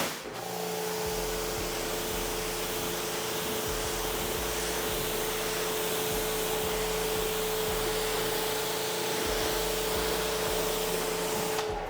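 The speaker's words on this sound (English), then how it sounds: "we activate it with the pressure washer." A pressure washer sprays water onto car paint, a loud, unbroken hiss and roar with a steady motor drone underneath, continuous from start to finish.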